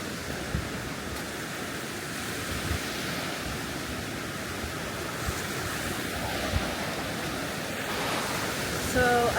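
Steady surf rolls in at Sunset Town Beach on Phu Quoc island, Vietnam, a broad continuous wash of waves with wind buffeting the microphone throughout, moderately loud and unbroken.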